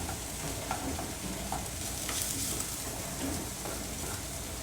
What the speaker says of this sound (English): So I'll just mix the lentils around in here.